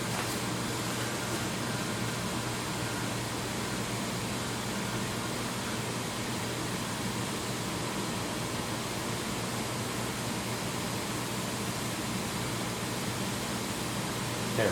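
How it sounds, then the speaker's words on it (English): The vacuum pump of a Denton Desk IV sputter coater runs as a steady, even broadband whir and hum that holds constant and fairly loud, with no talk. "come over and turn on the pump"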